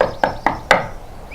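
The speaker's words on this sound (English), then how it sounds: "called Daddy Pig, knocking on the door." Three evenly spaced, hollow knocks on a wooden cottage door, close and crisp, with nothing else around them.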